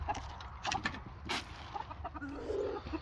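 Chickens on deep winter bedding cluck softly and intermittently nearby, with scattered rustling and a brief sharp sound in a quiet setting.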